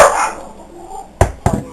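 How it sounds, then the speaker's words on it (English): Dogs in a home kitchen give two short, sharp barks close together near the end, after a stretch of quieter room noise. "Pardon my dogs."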